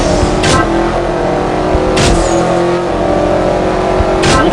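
A race car engine in the CSR Racing game, loud and continuous, revving hard and holding near the top of its range, with brief pitch dips at each tapped upshift and no speech.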